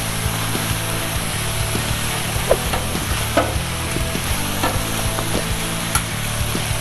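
Shaved steak sizzles steadily on a hot griddle with a broad, continuous hiss, broken by light scraping taps from a spatula as the meat is spread out, and a low hum in the background.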